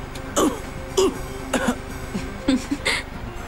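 A man coughs and clears his throat in several short, rough bursts spaced over a few seconds, fairly close against a quiet indoor background.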